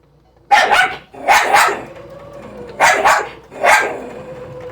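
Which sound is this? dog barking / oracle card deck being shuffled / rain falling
dog barking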